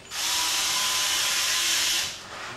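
A power drill drives a screw into a Peg Lock storage board mounted on a garage door, one continuous loud whirring burst of about two seconds that stops abruptly, close up with no talking.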